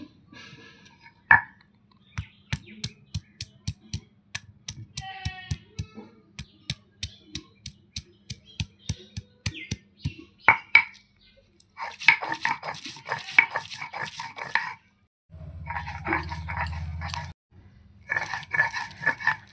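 Ginger is ground into paste by hand: a series of sharp, evenly spaced knocks gives way to longer, louder scraping and grinding bursts, close and clear with no talking.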